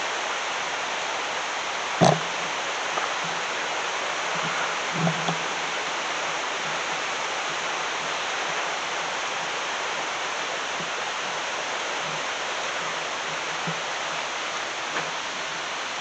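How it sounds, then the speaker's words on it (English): River rapids rushing steadily, a broad continuous hiss of churning water heard from nearby with no voices, plus a few faint thumps and a brief clack along the way. "foam that's come off the rapids"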